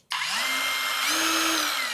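An APR AP22PRO angle grinder switching on and spinning up, a sudden start that settles into a steady, loud high-pitched whine with a slight rise in pitch partway through, running on alone.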